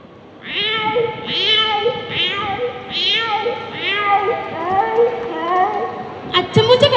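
A voice imitates a cat, producing a string of about nine drawn-out, wavering meows in a steady rhythm, close and loud, ending with a few sharper, harsher cries.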